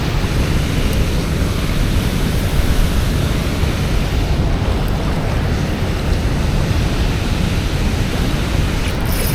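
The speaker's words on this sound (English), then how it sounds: "you can see the water right here is raging" Fast, raging river water at a fishing spot, a steady dense roar of rushing flow with no breaks, close and loud throughout, carrying a windy, hissing texture.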